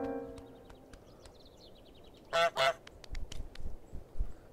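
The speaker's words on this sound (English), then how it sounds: "look, I'm a pretty goose." Goose honks from Untitled Goose Game: two loud, close honks in quick succession, followed by softer scattered game sounds and a few light clicks, with no talking.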